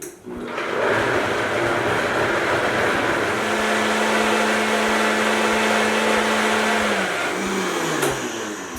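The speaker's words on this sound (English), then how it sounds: "Let's go ahead and puree the mixture slowly." A blender purees a grain-free pumpkin tart mixture with seeds and maple, giving a steady, loud motorized whir that runs for about eight seconds before cutting off.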